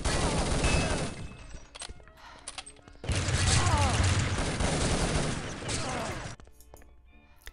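Gunfire in a Counter-Strike esports match at Urban Zone Knockout 2018, with M4 rifle and Negev fire: dense bursts of rapid shots, loud and continuous in two long stretches, with faint commentary talk underneath.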